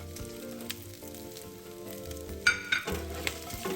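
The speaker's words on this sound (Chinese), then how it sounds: "然后翻炒约30秒后" Spicy Szechuan chicken stir-fried in a wok gives a steady close sizzle, with a few sharp clinks and scrapes of the spatula toward the end, no talking.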